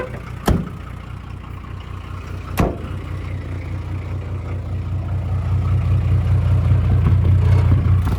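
A 1981 Datsun MQ Patrol with an SD33 diesel engine and 4-speed gearbox, idling with a coarse clattering rumble after sitting unmoved for years, two sharp knocks early on, then the engine note building louder and steadier toward the end.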